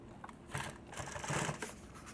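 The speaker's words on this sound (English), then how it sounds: "So I'm gonna go ahead and now sew this all closed." A sewing machine stitches closed a piece of nylon tactical gear in a brief, close, uneven run of mechanical rattling and clicks.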